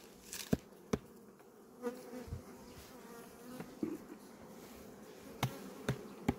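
Honey bees buzzing steadily around hives while foraging on rapeseed, with sharp clicks and knocks from handling the hive standing out over the hum.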